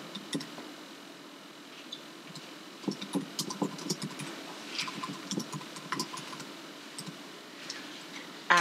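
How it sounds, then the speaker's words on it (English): Typing on a computer keyboard, with light, irregular key clicks in short clusters that sound close but soft over a quiet room. "I will type a message."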